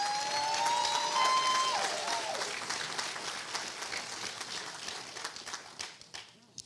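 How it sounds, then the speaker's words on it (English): An audience applauds the counselors, a broad roar of many hands clapping that starts strong and then thins out gradually toward the end, with a few voices mixed in. "So let's applaud the counselors."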